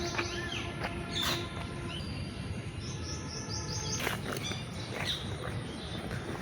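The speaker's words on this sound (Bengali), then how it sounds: "পাখির শব্দটি খুবই ভালো লাগছে," Birds chirp and call near mango trees with ripe fruit on the grounds of a school, short bright tweets scattered over a dense bed of insect and cricket buzz, moderately close, with no talking.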